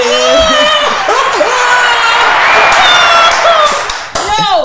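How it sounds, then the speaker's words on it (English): A loud, close crowd cheers, claps and shouts continuously, with excited voices and whoops layered over dense applause throughout. "And the crowd goes wild."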